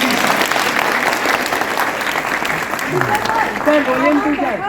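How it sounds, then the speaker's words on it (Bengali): A theatre audience claps loudly for the film Pariyah at Star Theatre, a dense, sustained burst of applause with crowd noise. Voices and chatter rise beneath it toward the end. "তার জন্য জোরে হাততালি আপনাদের জন্য।"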